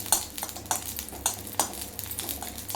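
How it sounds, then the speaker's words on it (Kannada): Chillies frying in oil in a pan for a simple chilli fry, with steady soft sizzling and repeated sharp clinks of a utensil stirring against the pan. "ಎಣ್ಣೆ ಹಾಕ್ಕೊಂಡು ಅದನ್ನು ಸ್ವಲ್ಪ ಫ್ರೈ ಮಾಡುವ."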